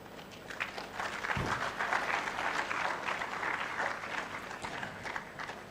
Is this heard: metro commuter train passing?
no